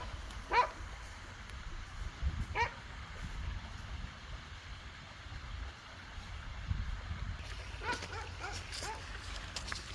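A dog barks a few times far off in an outdoor setting, faint and scattered over a low background rumble.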